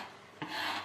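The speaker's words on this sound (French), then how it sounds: "Je vais avant toute chose nettoyer le plan de travail, donc le surplus de riz" Excess rice is wiped off a kitchen countertop while making salmon maki: one short, soft rasping rub, close and quiet, with no voices.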